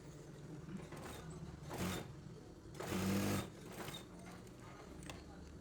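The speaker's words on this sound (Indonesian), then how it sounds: "Langkah selanjutnya kita tinggal jahit bagian bawah sakunya ya teman-teman." Sewing machine stitching the bottom of a side pocket on Levi's-style trousers, running in short bursts of rapid mechanical whirring with pauses between runs, close and fairly quiet.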